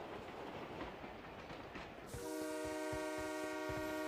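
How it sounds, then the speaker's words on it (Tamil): A train rolls past in the BGMI mobile battle-royale game, a loud rumbling clatter that swells into a sustained, steady horn blast for the last two seconds, with no talk over it. "பாருங்க ப்ரோ ட்ரெயின் இங்க தான் வருது"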